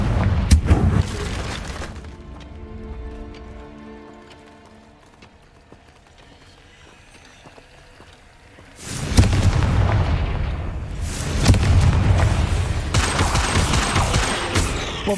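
Confringo and Bombarda spells go off in the Hogwarts Legacy video game as loud bursts of blasting and crashing at the start and again in a long second stretch, with a quieter, toned lull between them.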